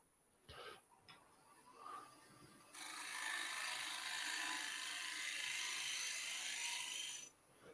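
A woodturning lathe running with an angled tool edge held against the spinning wood in a shear scrape, giving a steady, loud rasping hiss for several seconds after a few brief knocks and scuffs.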